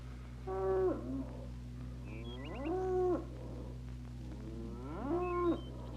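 Cattle on a farm that grows feed corn give three drawn-out moos, each rising and then falling, spaced a couple of seconds apart over a steady low hum.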